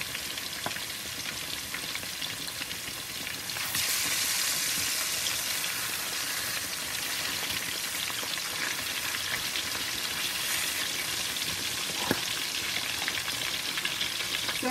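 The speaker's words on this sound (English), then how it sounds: "So I'm going to let this go ahead and continue to fry until I get it to where I want it." Seasoned salmon with onion powder, garlic powder, parsley flakes and garlic salt fries in a pot, a steady dense sizzle that grows louder a few seconds in and holds with no talking.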